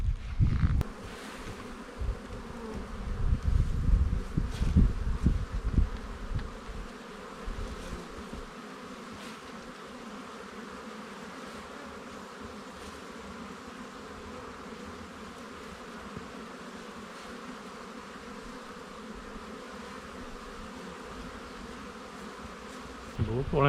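Honey bees buzz steadily around opened Langstroth hives in an apiary, a continuous dense hum throughout, with handling knocks and rustling near the start and a brief sound at the end.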